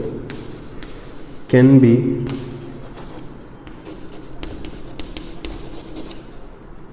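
A pen scratches steadily as a maths solution is written out by hand, close and soft, beneath a voice explaining in Hindi, with a brief louder rustle near the start.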